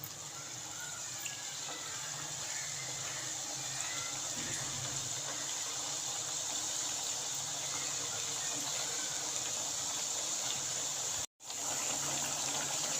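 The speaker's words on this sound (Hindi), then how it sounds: "इस तरह करके बाकी की सारी भी हम फ्राई कर लेंगे।" Sweet tikiya cakes frying in hot oil, giving a steady, dense sizzle that holds evenly throughout with one brief dropout near the end; no speech.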